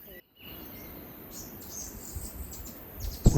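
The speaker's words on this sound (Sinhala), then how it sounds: "පුංචි රිරෝ කියන්නේ නවසීලන්තයේ කැලෑවේ හඬ" A grey warbler, or riroriro, sings in New Zealand forest at Zealandia sanctuary, faint high thin trills drifting in over quiet background hiss, followed by a louder close burst at the end.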